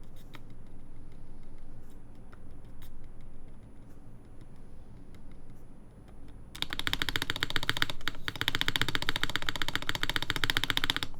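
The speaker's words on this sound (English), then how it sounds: "Is that O-ring making a spacebar sound weird?" Typing on a Jaguar v2 prototype mechanical keyboard with an O-ring fitted to the spacebar: quiet at first, then from about six seconds a dense, loud, steady stream of rapid clacking keystrokes, close up, with no voices.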